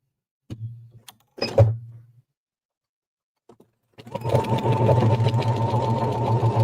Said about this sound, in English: we're just going to straight stitch